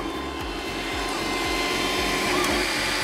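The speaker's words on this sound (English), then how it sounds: "I am right now printing on a pizza box." A 3D printer lays PLA onto a pizza box used as a build surface, giving a close, steady motor whir with regular rhythmic stepper pulses throughout and no talking.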